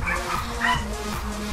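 Small dog yipping and whimpering in short, repeated bursts close by, a steady run of high, excited cries rather than deep barks, with faint speech underneath.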